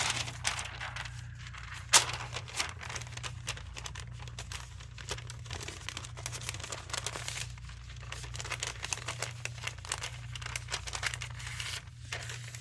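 Paper is folded and creased while drafting a technical fashion flat of a green dress, giving soft, steady crinkling and rustling at close range with a few sharper taps, fairly quiet throughout.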